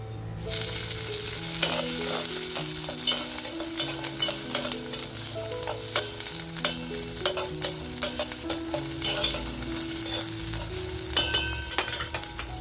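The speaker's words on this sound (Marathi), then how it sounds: "आल्याचा तुकडा, आणि आता बघा थोडंसं तेल टाकणार आहे" A ginger piece sizzles and fries in a little oil in a pan for a Maharashtrian kharda egg masala, a steady close crackle with frequent stirring scrapes and clinks throughout.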